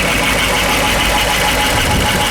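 The engine of a 1959 Ford Galaxie 500 runs steadily, a loud, continuous idle-like drone heard close up throughout, with no voices.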